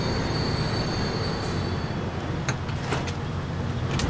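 A train runs along the track in the rail-simulation game Transport Fever 2, giving a steady, loud rumble with high wheel squeal and a few sharp clanks toward the end. No one talks.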